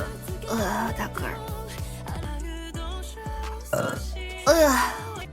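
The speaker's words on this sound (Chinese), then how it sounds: "哎呦，打个大嗝！" A loud burp from a VTuber, one of several deep belches in a row, with background music and brief voiced exclamations around them.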